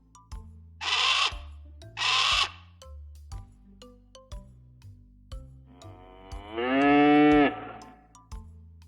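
Two short broadband bursts followed by a long, loud tonal grunting moo from a yak searching for grass, heard alone over a quiet background with faint ticking.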